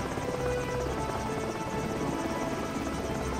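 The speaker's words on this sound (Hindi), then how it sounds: "अगले दिन लंबू, छोटू, जेसीबी और सुरेश हेलीकॉप्टर से उस जगह को ढूंढ लेते हैं" A cartoon helicopter flies over the countryside while searching for a spot; a steady, continuous whirring rotor drone holds at an even level throughout, with no talking.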